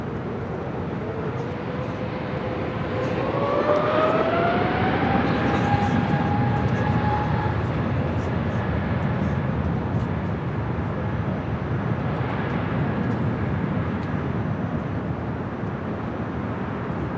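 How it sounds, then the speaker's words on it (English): An Alaska Airlines A320neo jet at LAX gives a steady engine roar whose whine rises in pitch early on, then holds loud and close for the rest of the clip, with radio voices talking over it. "flight 1177 heading to Seattle. It's an A320neo."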